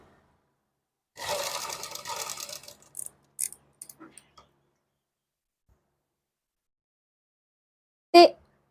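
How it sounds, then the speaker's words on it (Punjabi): A sewing machine stitches a suit seam in one short, rapid run of about a second and a half, followed by a few scattered clicks and, after a quiet pause, a single sharp knock. "ਇਸ ਤਰ੍ਹਾਂ ਰੱਖ ਕੇ ਆਪਾਂ ਸਿਲਾਈ ਲਗਾਣੀ ਸਟਾਰਟ ਕਰਨੀ ਹੈ"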